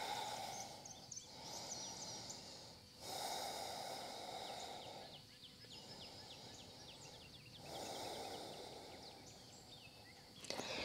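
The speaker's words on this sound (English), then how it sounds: "Taking a couple of deep breaths." Slow, deep breaths taken during a yoga flow, long airy inhales and exhales alternating at an even, unhurried pace, close and faint, with a soft background ambience and no talk.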